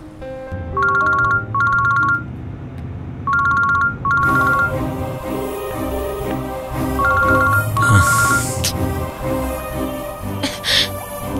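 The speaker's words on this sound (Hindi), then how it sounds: "उसे फोन कर रही हूँ, लग ही नहीं रहा।" An unanswered phone call sounds as a repeating electronic ringtone in short paired bursts, clear at first, then returning softer under a busy background of music and ambient noise.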